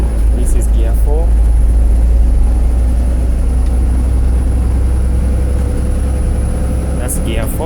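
A car engine running steadily in fourth gear, a loud continuous low drone and hum filling the cabin with little change, while someone talks over it.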